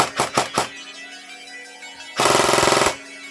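ICS airsoft AEG electric gun firing, three quick semi-auto shots followed by a short, loud full-auto burst of rapid rattling clicks over a faint motor whine.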